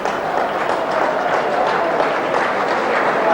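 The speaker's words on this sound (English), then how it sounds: "sympathetic round of applause" Crowd at a rugby league friendly, St Helens versus Widnes, gives a sympathetic round of applause for an injured player leaving the field: steady, dense clapping and crowd noise running continuously throughout.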